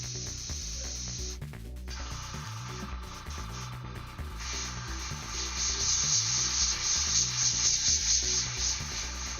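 An airbrush sprays paint at what may be low pressure, giving a steady, fairly quiet hiss that swells louder in the second half, mixed under continuous background music.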